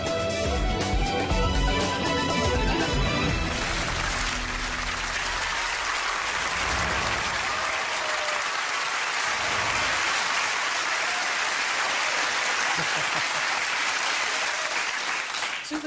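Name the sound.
studio audience applauding and cheering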